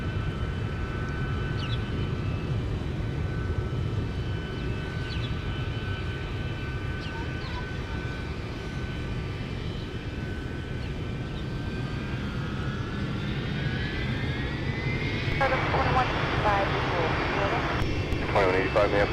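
A Delta airliner inbound from Tokyo Haneda at winter Minneapolis airport, steady engine rumble and whine under talking and radio chatter, with a rising jet tone swelling louder toward the end.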